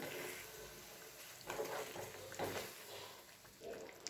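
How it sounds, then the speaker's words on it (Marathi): A little water poured into vegetable masala frying in a pan, brief splashing bursts and a sharper hiss over a steady background sizzle, close by, with no talking. "यामध्ये थोडंसं पाणी टाकणार आहे"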